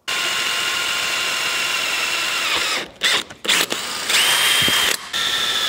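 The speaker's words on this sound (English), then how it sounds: "All four holes are drilled." Power drill boring holes for spotlights on a Land Rover Defender 110, a loud, steady close whine that stutters in several short bursts and stops partway through before running on, with no talking.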